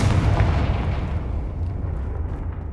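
A Confringo fire spell explodes in the video game Hogwarts Legacy, a loud booming blast with a heavy low rumble that fades slowly over nearly three seconds.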